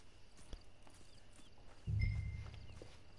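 A horse named Scrawny Neck clip-clops in Red Dead Online, its hooves thudding softly and somewhat distant, then a denser, louder patch of steps about two seconds in over a quiet background hum.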